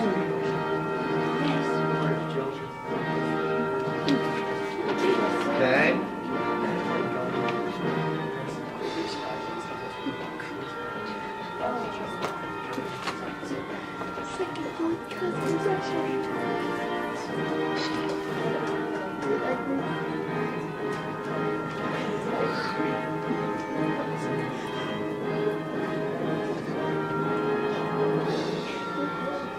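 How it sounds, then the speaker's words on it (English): Church bells ring continuously with layered, resonant tones over a steady background, and a voice speaks briefly. "Church bells are chiming in Russia, signaling victory."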